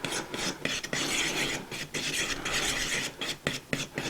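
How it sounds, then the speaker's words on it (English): A homemade grain and seed flock block for chickens is stirred with oil and molasses, giving a steady gritty scraping and rasping that repeats in uneven strokes, close and moderately loud, with no talking. "just got to keep mixing and mixing and mixing"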